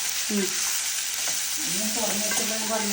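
Sweet mango masala being stirred in a frying pan, a steady close sizzle with soft scraping strokes of the spoon, no talking.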